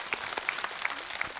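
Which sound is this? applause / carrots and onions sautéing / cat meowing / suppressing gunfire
applause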